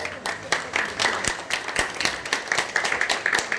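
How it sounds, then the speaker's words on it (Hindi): Audience applause at a gathering, many hands clapping in a dense, uneven patter with some sharper claps standing out, steady and moderately loud throughout. "एक बार मैं चाहूंगा दिल खोल के ताली बजा दीजिए।"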